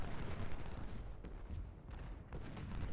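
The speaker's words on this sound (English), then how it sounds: "Their artillery is actually firing as well." Artillery fires in the Civil War strategy game Ultimate General: Civil War, a dense, rumbling stream of overlapping cannon booms that stays distant and low in level, with no talk over it.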